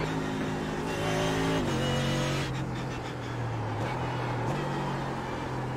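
Mercedes GT3 race car engine in the iRacing game at Barber Motorsports Park, a steady loud droning roar whose pitch drops and rises in steps through gear changes, close and continuous.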